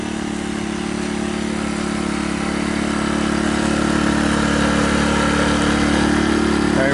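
A Sportsman 1000 watt portable generator runs at close range with a steady, droning hum and low buzzing tones, growing slightly louder toward the end.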